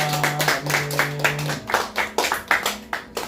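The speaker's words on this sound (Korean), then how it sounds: "주님께 영광과 박수를 드립니다." A church congregation claps rhythmically during a service. Loud, close, fairly regular clapping beats pulse over a fading sustained musical tone.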